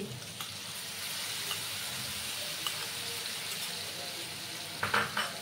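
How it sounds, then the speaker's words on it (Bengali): Spice paste for a pumpkin and papad curry fries in a pan with a continuous sizzle, stirred throughout, with a few soft utensil clinks near the end. "এবার ভালো করে কষিয়ে নিতে হবে"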